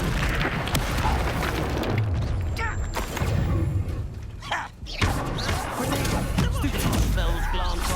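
Fire spells burst and boom repeatedly amid game combat in Hogwarts Legacy, heard as dense, rumbling thuds and crackles beneath voices.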